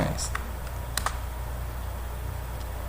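Someone types a few scattered keystrokes on a computer keyboard, including a press of the enter key. The crisp clicks sit over a steady low hum.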